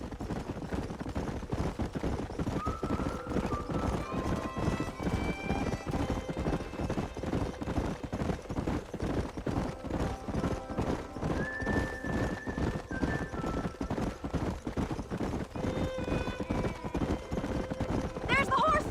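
In the video game Red Dead Redemption, hooves clatter in a fast, steady gallop with horses neighing now and then, while gunfire pops in the background and voices call out.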